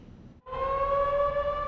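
Evacuation siren blaring during floods in Hamilton, Washington, a loud sustained steady wail that starts abruptly after a brief dip and holds without a break.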